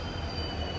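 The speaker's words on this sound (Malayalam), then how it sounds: "ഇവിടെ ഇത് 1ാം നമ്പർ പ്ലാറ്റ്ഫോമിലേക്ക് ഒരു വണ്ടി വരിക." A train pulls into a platform at Jodhpur railway station with a continuous high metallic wheel squeal over a low rolling rumble, loud and near, with no voices.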